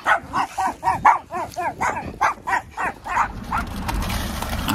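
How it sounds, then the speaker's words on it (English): Little chihuahua puppies barking in a quick series of high, yappy barks, about a dozen close together and loud, the last ones blurring into whimpers and rustling nearby. "Look at all these little chihuahuas."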